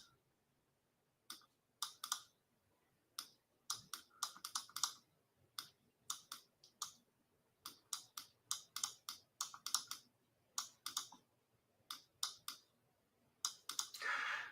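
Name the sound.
typing on a computer keyboard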